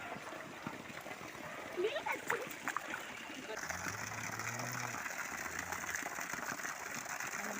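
Steady rushing water with splashy bursts, a continuous broadband wash, with voices talking over it partway through.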